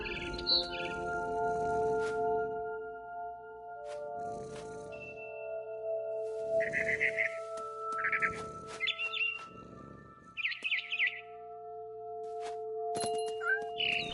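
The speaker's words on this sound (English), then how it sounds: "Then I heard chirping outside my window. It was a barn swallow going back to her nest." Barn swallow chirps in the game What Remains of Edith Finch, short bright bursts of calls repeating in clusters over a steady low ambient hum, moderately close and clear.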